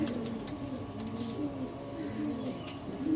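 Soft, low cooing from Andhra Madrasi pigeons in a home loft, a faint steady murmur of overlapping calls over a short moment.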